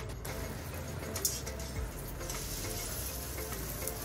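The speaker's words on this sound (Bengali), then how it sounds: "ডিমটা এবার ভাজবো।" Beaten egg sizzles and fries in a hot wok for egg chowmein, a steady crackling hiss with a few sharp clinks and scrapes, close and alone.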